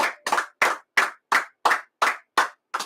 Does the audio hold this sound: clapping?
yes